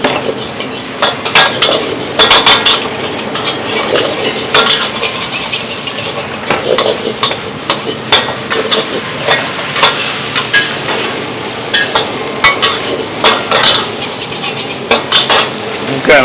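Curry fried rice with beef stir-fried at a street food stall, with steady sizzling and frequent metallic scrapes and clanks of a spatula against the pan in an irregular rhythm, close and loud.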